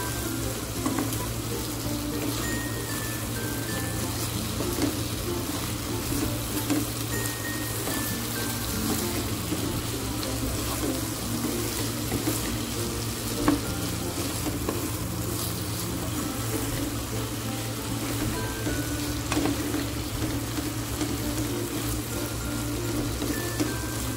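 Chopped young green beans stir-fry in a hot pan, a steady dense sizzle running unbroken for the whole stretch with faint scrapes of stirring, no voices over it.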